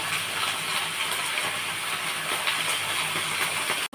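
Mixed vegetables, including flat beans, sauté in a kadai with a steady, close, even hiss of frying that barely varies and cuts off abruptly at the end.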